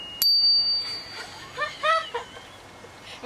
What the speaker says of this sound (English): This little bell thing, so I do it